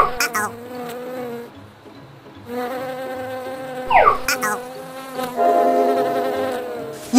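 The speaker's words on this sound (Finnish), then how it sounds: "Kärpänen voidaan napata haavilla." A fly in an animated children's cartoon buzzes in several drawn-out, tonal bursts, rising and fading close by, separated by brief pauses.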